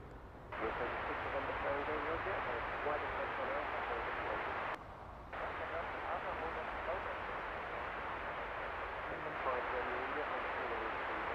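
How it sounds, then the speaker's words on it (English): An Iberia Airbus A330 jet airliner arriving at Heathrow from Madrid gives a steady, distant broadband roar that holds for the whole stretch, briefly dipping once, with a commentator talking faintly over it. "Next in, Iberia with one of their A330s."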